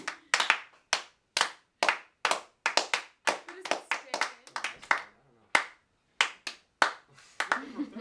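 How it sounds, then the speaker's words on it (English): Hand claps recorded for a song in a small studio, a run of sharp single and paired claps at an uneven pace, close and dry, with short gaps and a faint voice near the end. "But that's a good claps."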